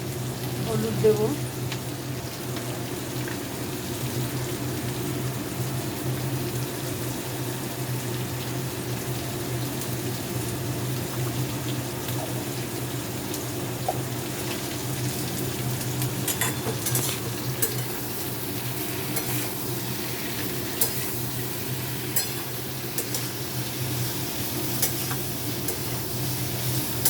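Vegetables fry in a pan while being stirred, making a soft continuous sizzle with occasional scraping clinks over a low steady background hum, close but fairly quiet.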